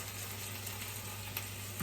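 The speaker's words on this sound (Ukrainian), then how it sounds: "вона мене ще не досмажилася, ну хай смажиться" Chopped onion frying in a pan in a home kitchen while breakfast is cooked, giving a steady, close, even sizzle with no speech and only a small pop near the end.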